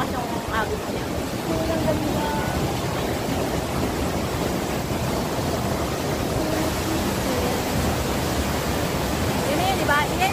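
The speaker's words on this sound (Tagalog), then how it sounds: "Malakas yung agos niya." Strong river current rushing at Ambon Ambon Falls in Panguil, Laguna, as a steady, loud broadband roar that fills the whole stretch without a break, with faint voices now and then beneath it.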